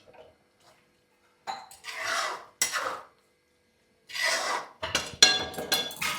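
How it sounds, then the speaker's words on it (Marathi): A spoon scrapes and clinks in a pan as methi masala is stirred, with several short bursts of clattering separated by pauses, close and fairly quiet. "आता याला मस्त हलवून घ्यायचं"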